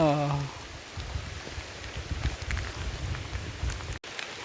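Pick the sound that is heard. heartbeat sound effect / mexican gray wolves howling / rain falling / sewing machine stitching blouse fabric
rain falling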